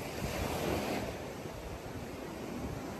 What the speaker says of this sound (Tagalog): Ngayon, grabe yung hangin.